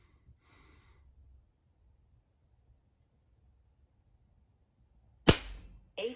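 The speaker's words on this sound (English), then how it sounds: "Fifth and final shot with the Crossman." A single sharp report from a Crosman air rifle fires near the end of an otherwise quiet stretch, with a brief metallic afterclick following the shot.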